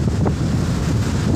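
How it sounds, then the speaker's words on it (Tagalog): Tropical storm wind over the Gulf of Mexico roars and buffets the microphone in a steady gust, with a faint wash like surf underneath. "lakas ng hangin guys"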